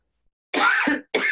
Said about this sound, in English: You can't even cough anymore